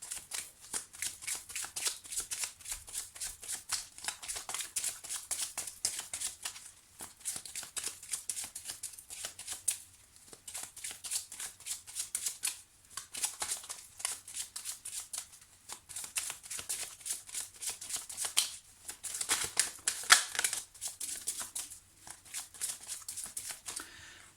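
Lenormand oracle cards shuffled by hand for a love reading, a close, steady run of crisp riffling and sliding card sounds in repeated bursts with brief pauses, no voices.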